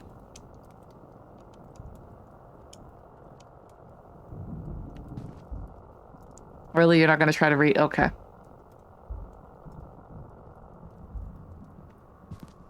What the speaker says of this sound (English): Oh, wait, it was a typewriter.